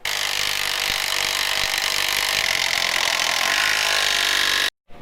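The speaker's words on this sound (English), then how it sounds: "We're swapping some bolts out, tightening everything." A loud power tool runs steadily for several seconds while bolts are tightened on a car's brakes, a harsh continuous whir close up that cuts off abruptly just before the end.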